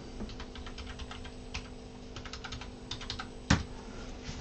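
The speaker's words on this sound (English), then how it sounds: "Let's type in Thingiverse." Rapid typing on a computer keyboard, close and fairly quiet, with irregular clusters of key clicks and one louder key strike near the end.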